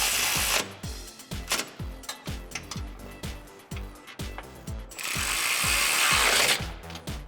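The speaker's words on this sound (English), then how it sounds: "Get your screws in and tighten them up with your 13 millimeter." A 13 mm ratchet tightens bracket bolts on a Jeep Wrangler JL exhaust, clicking in quick regular strokes, with a longer steady ratcheting run near the end. Close and clear, with no voices.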